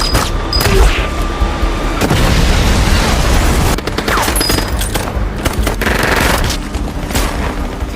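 Rapid bursts of machine-gun fire and booming explosions pound continuously through an action-film shootout, dense and loud with repeated volleys and heavy blasts layered over one another.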